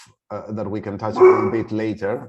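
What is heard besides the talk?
dog barking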